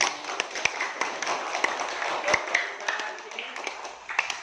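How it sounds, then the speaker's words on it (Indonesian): An eighth-grade class applauds in a school classroom with a brief patter of many hands clapping. Voices can be heard beneath the applause. "Oke ya, tepuk tangan."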